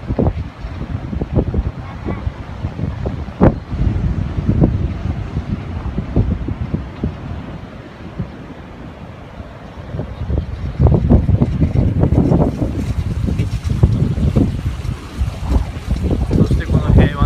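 Strong typhoon wind roars steadily at the Okinawa Peace Memorial Park, buffeting the microphone with heavy low rumbling gusts that swell louder toward the end, with no talking.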